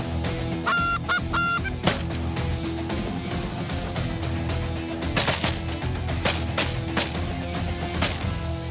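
A flock of Canada geese honks repeatedly, loud and close, amid a dense wash of other outdoor noise, including gunshots, on a waterfowl hunt in Saskatchewan.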